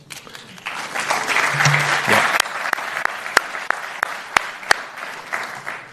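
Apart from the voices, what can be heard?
audience applause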